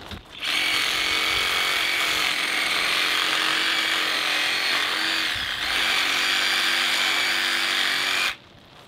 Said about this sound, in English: I'm going to go ahead and cut through some of the meat just so the saw doesn't jiggle as much